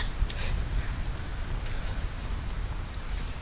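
Steady rainfall in the video game Cairn, a constant hiss of drops on surfaces with a few brief brighter patters, heard alone without voices.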